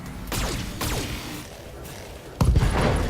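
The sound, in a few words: mech weapons firing in video game BattleTech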